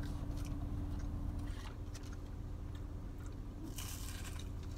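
Close, quiet crunching and biting as someone chews crunchy shrimp with sweet and sour sauce, with irregular crisp bites over a low steady background hum.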